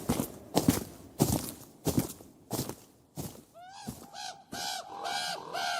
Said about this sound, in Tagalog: Bakit parang may mga uwak na naman